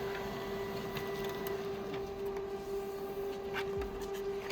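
An office printer runs continuously at close range, a steady mechanical whir with a constant tonal hum and faint clicks, and no voices.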